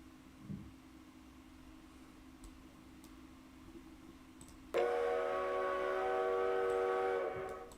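After a stretch of quiet hum, a train whistle sounds out steadily for several seconds, then fades, with faint ticks in the background.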